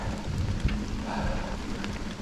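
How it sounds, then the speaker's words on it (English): Steady rain falls on a park trail in Rockford, Michigan, a dense, even hiss of drops close around with no talk and no breaks. "this seems to be raining for a little bit longer"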